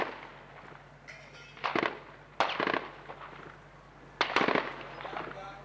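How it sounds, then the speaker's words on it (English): Automatic rifle fire during a street battle against Israeli tanks on the outskirts of Bet Hanoun, several loud bursts of rapid shots separated by pauses, with rattling echoes in between. "Israeli tanks pitched against a handful of Palestinian fighters armed only with automatic rifles."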